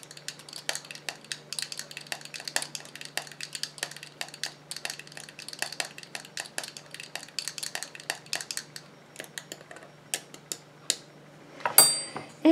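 A spoon stirring coconut milk and donkey milk shower gel in a bowl gives quick, regular clinks against the sides. The taps are close and crisp, and a louder clatter comes near the end.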